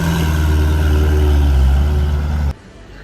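A supercar at a Miller Motorcars dealership pulls away, a loud close engine drone with steady harmonic tones for about two and a half seconds, then cutting off abruptly to quieter background.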